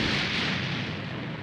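Explosive Wave attack blast in the video game Dragon Ball Xenoverse 2: a loud, sustained rumbling explosion filling the whole clip, broad and roaring without pause.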